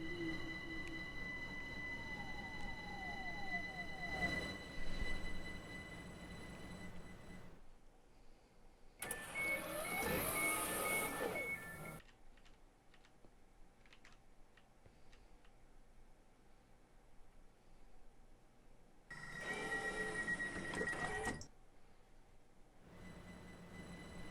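A Minecraft train rides between stations, giving a steady rolling rumble with wheel noise. Two louder, hissing bursts break through, separated by quieter stretches, and no one speaks.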